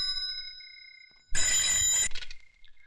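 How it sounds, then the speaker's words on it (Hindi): A telephone bell rings in one loud, continuous burst of about a second, breaking in after a steady electronic tone and fading with a short tail, with no talk over it. "लो भैया बज गई आपकी घंटी।"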